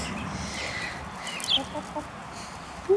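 Hens on a farm in their chicken run give faint, scattered clucks over a soft outdoor background, with one brief sharper call near the end.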